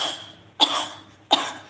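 Two strong, harsh coughs from a person, spaced about a second apart, each a sudden loud burst fading into a breathy tail, with no talking.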